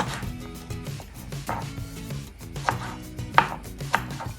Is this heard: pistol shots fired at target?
no